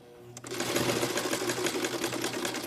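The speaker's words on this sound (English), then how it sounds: "You're going to sew that down so you have a nice clean edge." After a short quiet moment, a sewing machine starts up and stitches down the hem of pyjama pants, a fast, even mechanical whirring that runs loud and close to the end.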